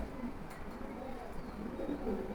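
A pair of Swachandan pigeons cooing softly at close range, low throaty coos repeating under a quiet background hum, with someone talking at times.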